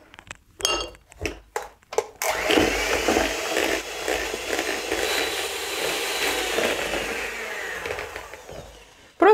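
An electric mixer whips softened butter into a pale creamed mass for a bird cherry cake, a few sharp clinks of a bowl giving way to a steady, loud whirring drone that runs on unbroken with no talk.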